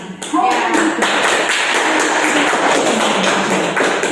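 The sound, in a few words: hand clapping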